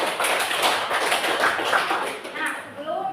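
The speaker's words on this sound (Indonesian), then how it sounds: "Iya, tepuk tangan buat Cynthia." Schoolchildren in a classroom clap together for a classmate, a quick, uneven burst of hand claps and taps heard close by. Young voices chatter faintly underneath as the clapping fades out.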